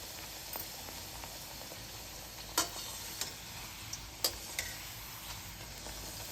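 Thattai rice crackers fry in hot oil for a Gokulashtami special, a steady fine hiss of bubbling oil broken by a few faint sharp pops and crackles, close and even with no talking.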